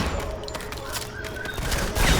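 Rapid, continuous gunfire from the Modern Combat 5 video game, a dense crackling fusillade that fills the whole moment at steady loudness.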